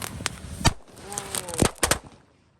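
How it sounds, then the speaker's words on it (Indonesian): Jumbo kretekan firecracker popping off in a rapid irregular string of sharp close cracks, some louder than others, with a faint whistling tone between bursts. "Selanjutnya kita nyalakan mercon kretekan jumbo, ini ada meledosnya guys."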